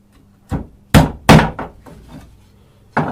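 Hammer blows strike a nail into a wooden beehive frame, four sharp knocks close together, a pause, then another strike, all close and loud.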